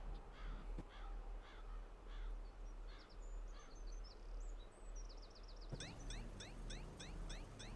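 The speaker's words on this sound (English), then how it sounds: "Why are there birds making noises?" Several birds caw and chirp in quick repeated bursts over a steady low rumble in the racing video game Sonic & SEGA All-Stars Racing, the calls growing denser and higher near the end.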